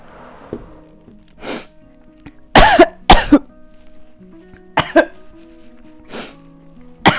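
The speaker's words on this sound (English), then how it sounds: "It is the mark of a good glass piece to make you cough after you hit it." Harsh coughing after a hit from a glass pipe in a sunlit room: several loud, close coughs and throat-clearing bursts come in irregular clusters, with quiet pauses between them.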